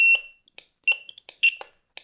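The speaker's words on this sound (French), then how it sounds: "si par exemple je mets le buzzer en route, le mouvement ralentit" A buzzer wired into a bicycle turn-signal circuit gives loud, sharp electronic beeps in an irregular pulsing pattern, with clicks of the flasher between tones and silence in the gaps.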